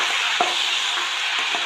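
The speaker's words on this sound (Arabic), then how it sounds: "هنقلب فيه لحد ما يتشوح مع الزيت" Washed, salted rice is stirred through hot oil in a pan, a steady broadband sizzle with a few soft scraping knocks of the spoon, close and continuous without any voices.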